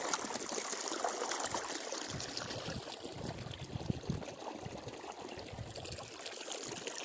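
Irrigation water flows through a channel into a wheat field, a steady gurgling trickle and splash that runs continuously and close by, with no voices.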